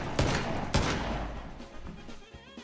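Gunfire in PUBG: two loud, sharp shots open the clip, followed by fainter scattered pops as the sound fades.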